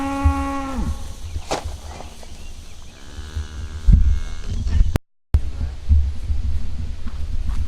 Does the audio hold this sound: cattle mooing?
yes